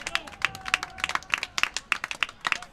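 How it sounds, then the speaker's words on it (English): Baseball fans at a high school game clap in scattered, uneven bursts, a small crowd heard at moderate distance with a faint voice in the background. "Get the Hornet fans here clapping as Howell did it earlier"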